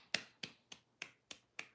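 Six sharp, evenly spaced claps or snaps ring out one at a time, each about a third of a second apart and close to the listener, with no voice in between.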